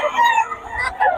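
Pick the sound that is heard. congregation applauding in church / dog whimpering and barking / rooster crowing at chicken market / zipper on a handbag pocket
rooster crowing at chicken market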